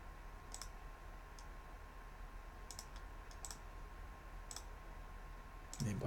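Sharp, sparse computer mouse clicks land singly and in quick pairs over a low steady hum, close and fairly faint, ending in a brief louder rustle.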